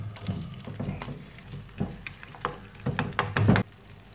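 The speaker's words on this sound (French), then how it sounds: "dès que l'huile est bien chaude, on met les frites" French fries sizzle and spit in hot virgin oil in a frying pan, a quiet bed of frying with irregular louder crackles and scraping pops, growing busier toward the end.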